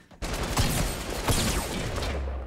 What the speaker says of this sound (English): Oh, a minigun. Light machine gun.